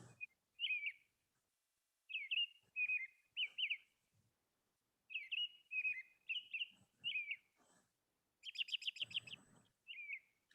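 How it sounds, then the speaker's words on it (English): Several birds chirp and whistle in short bursts of song, clear and fairly close, with brief quiet gaps between phrases and a quick trilling flurry near the end. "what do you hear? The birds singing in the trees?"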